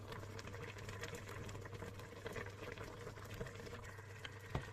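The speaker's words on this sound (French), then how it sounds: "Je laisse un petit peu mijoter comme ça." Carrots and turnips simmer in a pot with a faint, steady bubbling murmur over a low hum, quiet and continuous, ending with a small knock.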